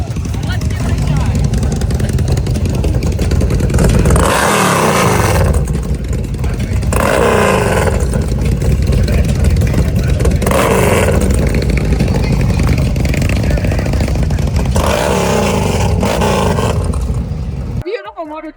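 A custom motorcycle engine fires up and revs loudly, with repeated surging throttle blips over a steady rumbling idle, close by, while people talk over it.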